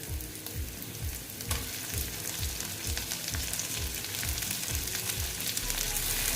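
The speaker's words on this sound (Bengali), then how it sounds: "দেখো মোটামুটি আমার এটা ভাজা হয়ে এসছে সেই রকম ভাজা হয়নি আরও ভাজবো" Koi fish (climbing perch) frying in a pan with tomatoes just added makes a close, strong sizzle, with a regular rhythm of stirring strokes repeating about every half second throughout.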